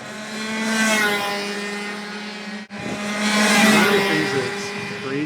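A shifter kart tears around the track at Atlanta Motorsports Park, its high-revving engine screaming loudly and steadily, cutting out for a brief moment partway through before surging back up with rising revs.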